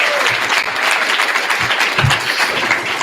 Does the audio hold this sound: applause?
yes